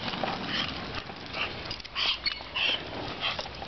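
A sled dog sniffs and whimpers close by, with short nasal snuffles and a few high whines over a rough outdoor background of wind and movement.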